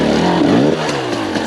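A 2022 TM EN300Fi fuel-injected two-stroke dirt bike engine lugs at low revs in second gear, a loud, steady, throbbing drone held close throughout.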